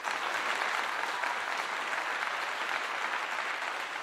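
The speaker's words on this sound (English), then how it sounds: "Give that man a clap." Audience applause fills a Deion Sanders post-game show after the Colorado versus TCU football game: a dense, steady wash of many hands clapping at even volume throughout, with no talking over it.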